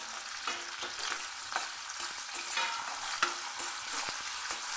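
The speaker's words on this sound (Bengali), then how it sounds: "পেঁয়াজ আদা লঙ্কা সমস্ত কিছু লাল করে ভেজে নিচ্ছি" Chopped onion, ginger and green chili sizzle and crackle steadily in hot oil, stirred now and then with soft scraping taps, close and moderately loud with no talk.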